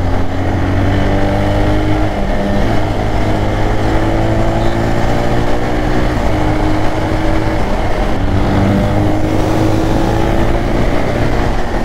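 Motorcycle accelerating along a road, engine droning loud and close with rising revs through gear changes and constant wind and road noise.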